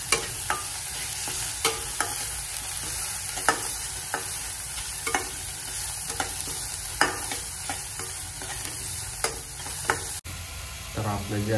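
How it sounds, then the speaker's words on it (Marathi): Onion and tomato paste frying in a pan with egg masala and salt, a steady sizzle running throughout, punctuated by regular sharp clicks and scrapes of a spoon stirring against the pan, then a sudden change near the end. "कांदा आणि टमॅटोची जी पेस्ट आपण बनवली होती ती व्यवस्थित आता फ्राय होऊन झालेली आहे"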